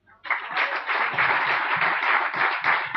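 A church congregation breaks into steady applause during a sermon, dense clapping that starts abruptly and continues at full strength for a few seconds.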